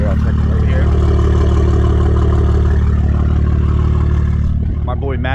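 A BMW G80 M3 fitted with an IRL catback exhaust and catless downpipes idles close by with a loud, steady, deep drone. The tone shifts briefly near the end.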